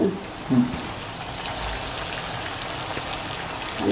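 Bombil fish bhaji fritters, small round balls of batter, frying in hot oil over a low gas flame, a steady soft sizzle and crackle with faint popping throughout, no talking.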